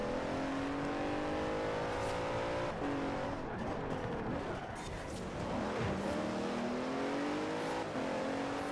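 Bentley Continental GT engine in Forza Horizon 4, droning and revving loudly with rising and falling pitch as the car accelerates and shifts, steady and close throughout with no talk.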